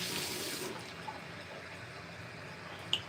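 Hot water runs from a tap as hands are washed beneath it, a close, steady splashing hiss that is louder at first and then settles into a softer flow, ending with a small clink, with no speech.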